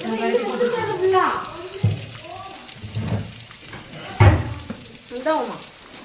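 Prawns fry in hot oil coated with a secret masala powder, a steady sizzling and bubbling with occasional stirring, while people talk over the cooking.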